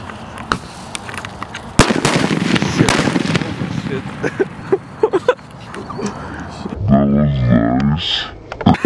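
Excalibur firework shells burst outdoors as a string of loud booms and sharp crackles. People talk and shout over the blasts, and a voice cries out near the end.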